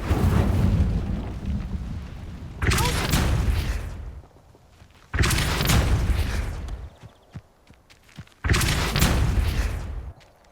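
The Incendio fire spell in the Hogwarts Legacy video game erupts in repeated loud whooshing blasts, three or four heavy bursts of roaring flame each lasting a couple of seconds, separated by quieter gaps.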